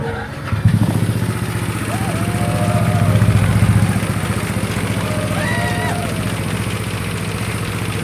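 A Yamaha NMAX scooter engine starts up after a fuel pump wiring bypass and settles into a steady, fairly loud idle with a light clatter, while a short voice-like tone sounds in the background.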